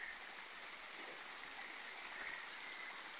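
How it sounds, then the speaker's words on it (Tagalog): Water rushing steadily down Gisawan Falls, a mountain-fed waterfall, making a constant broadband roar that stays even and close throughout with no voices over it. "Ito yung sinasabi nilang Gisawan Falls guys."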